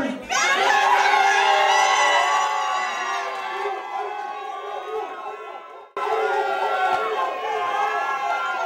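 Rap battle crowd at a live event loudly yelling out the winner of a round, a dense roar of many shouting voices that dips briefly near the end before surging again.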